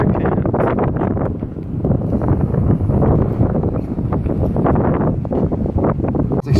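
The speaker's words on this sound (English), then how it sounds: "It's extremely windy from there." Strong wind buffets the microphone on the Trolltunga hike in Norway, a steady, loud roar with gusty fluctuations throughout.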